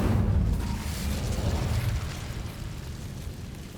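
A burst of the Incendio fire spell in Hogwarts Legacy erupts as a deep, rumbling whoosh that starts strong and slowly fades over a few seconds, with no one talking.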